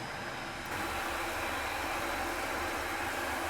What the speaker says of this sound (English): Engine start. The fans will start up. It's going to get loud